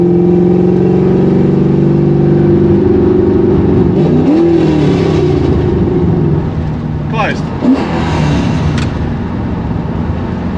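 Ford Falcon FPV GT on race pipes with the exhaust valves open, a loud, raspy engine drone heard from inside the car, rising and dipping with throttle before a brief rev change near the end; a voice talks over part of it.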